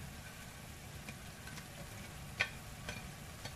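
Cabbage and mixed vegetables stir-frying in a pan give a steady, soft sizzle, with a few faint clinks and scrapes of stirring near the end; no one talks.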